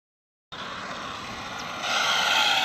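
An Arrma Limitless RC car called Megalodon, running on 12S, passes at full throttle with a steady high-pitched electric whine that starts abruptly and swells louder toward the end, with no talk.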